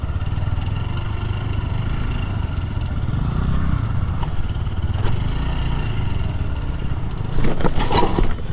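A motorcycle's wheel slips in shallow water on a beach while its engine rumbles steadily and close throughout, with a few clattering splashes rising near the end.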